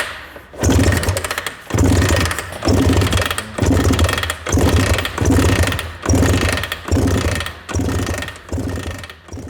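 Someone repeatedly kick-starts an old Suzuki TS400 Apache motorcycle during a revival, about eight loud, rhythmic mechanical strokes of the kickstarter ratcheting the engine over without it catching.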